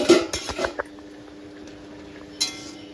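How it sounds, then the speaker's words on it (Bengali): A cooking pot of chingri kochu pata bhapa stirred after its lid is lifted, a few quick metallic clinks and scrapes at the start, then a quiet stretch and one more clink near the end, close by. "একটু নেড়ে চেড়ে দিলাম।"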